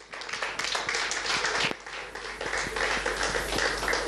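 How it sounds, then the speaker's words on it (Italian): Audience applause at a televised music show broadcast, a steady dense wash of many hands clapping throughout, loud and sustained with no talk over it. "Un applauso."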